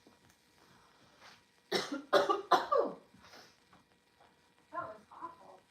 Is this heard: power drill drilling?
no